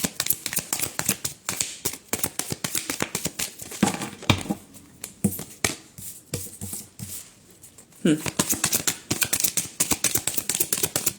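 Tarot cards shuffled by hand in a rapid run of crisp riffling flicks, pausing briefly midway and then resuming just as busily, close and fairly loud with no talking.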